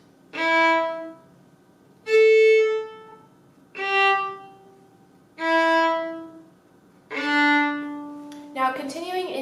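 A solo violin plays the melody of a song, measures 14 to 17: five clear, sustained bowed notes with short silences between them, close and alone, and a voice begins to speak at the very end.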